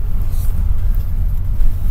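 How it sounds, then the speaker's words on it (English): Road traffic rumbles past nearby, a loud continuous low drone of cars and heavier vehicles with no distinct individual pass-bys. "Look at all the cars, guys."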